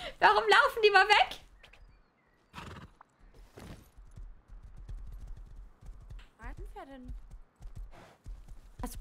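In the video game Rust, a horse whinnies loudly, then hooves clip-clop at a steady walking pace while people talk intermittently over the scene.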